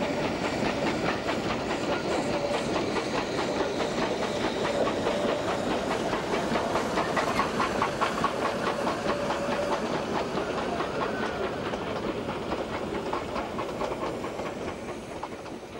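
A narrow meter-gauge train runs through the semi-desert of Sindh, Pakistan, its steady clickety-clack of wheels on rail joints and a hiss of steam filling the whole stretch, loud and continuous before easing off slightly at the end.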